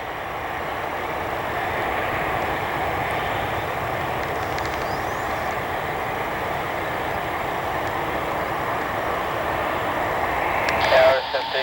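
An airliner taking off from runway 1 produces a broad, steady roar that holds for the whole stretch and swells slightly near the end, with voices present.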